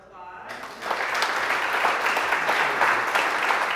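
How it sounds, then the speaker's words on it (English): Audience applause for a lecturer at a neuro-optometry lecture, starting after a brief quiet moment and building into steady, dense clapping that carries through to the end. "we're gonna give her a round of applause"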